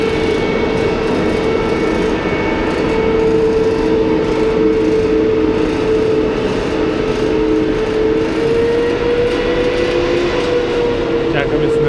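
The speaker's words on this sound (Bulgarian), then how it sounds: "И ето бързия влак, на който се качваме." A double-decker express sleeper train at Moskovsky station, heard as a loud continuous rumbling hum with a steady droning tone, even and close for the whole stretch, with no clear talk.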